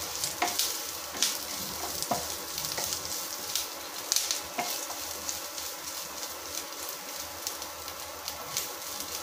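A bunch of curry leaves fries in hot oil in a pan for a chicken gravy, a steady close sizzle with a few sharp crackles and the occasional scrape of stirring, and no talking.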